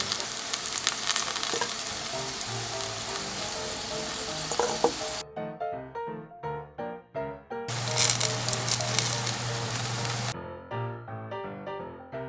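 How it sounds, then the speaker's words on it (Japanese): Battered Chinese yam pieces sizzle steadily in a frying pan while being browned, with the loud frying hiss broken by gaps and light clinks as the pieces are turned; music plays underneath. "返しながら全面に焼き目がつくまで焼いていきます。"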